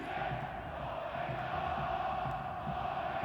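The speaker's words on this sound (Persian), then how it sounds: "تیم صدر جدولی سپاهان رو فریاد میزنن و تشویق میکنن." More than 15,000 Sepahan supporters in a football stadium shout and cheer together, a dense, continuous roar of massed voices heard from a distance and unbroken throughout.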